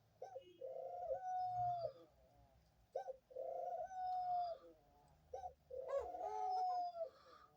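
A pet dove coos beside her cage in three soft, close phrases, each a low rolling coo that rises and holds, separated by brief pauses in a quiet room.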